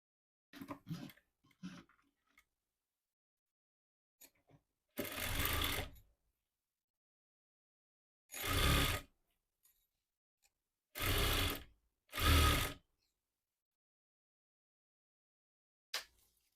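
Domestic sewing machine stitching the folded hem of Punjabi-style pants, running in four short bursts of roughly a second each with pauses between, close and fairly loud, with small handling clicks and fabric rustles in the gaps.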